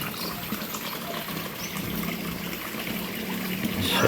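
Water trickling and flowing steadily beside a house on a mountain slope, a continuous close-up babble with no break and no voices, swelling slightly louder toward the end.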